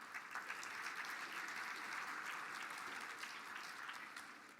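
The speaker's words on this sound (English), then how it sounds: "Give them one more round of applause," At a tribal State of the Band address, the crowd gives another round of applause, a broad, even wash of clapping that sits fairly quiet in the mix and tapers slightly toward the close.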